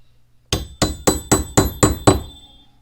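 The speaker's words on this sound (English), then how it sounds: "The pin may require a few taps with a hammer to get it all the way back in." A hammer taps a metal door hinge pin back into place, seven crisp, evenly spaced metallic strikes close up in a quiet room.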